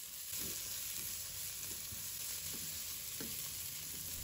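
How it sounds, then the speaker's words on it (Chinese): Ginger, garlic and chili stir-fry in hot oil in a wok with a soft, steady sizzle and a few scattered scraping stir strokes. The sound is fairly quiet and there is no talking. "油热之后把姜蒜、辣椒放入锅中翻炒，把它炒出蒜香味和辣味"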